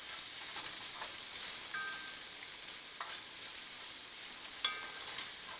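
Spices and ground dune pepper frying in hot oil for a rabbit stew, a steady bright hiss of sizzling with a few light clinks of a utensil stirring the pan.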